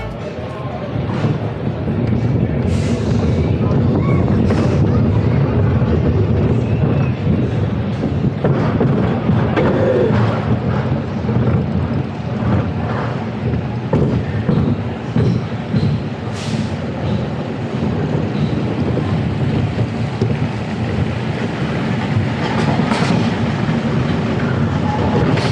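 Front-row ride on the River King Mine Train roller coaster at Six Flags St. Louis: loud continuous rumble and clatter of cars on track with rattling jolts, wind roar and occasional sharp bangs, faint voices mixed in.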